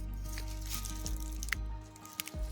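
Semolina pakoras are dropped into hot oil, giving soft wet squishes and brief sizzling splutters over a steady low kitchen hum.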